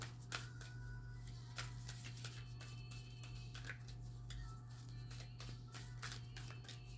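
A deck of oracle cards is shuffled by hand, with quiet, close riffling and repeated sharp card flicks over a low steady hum, and no talking.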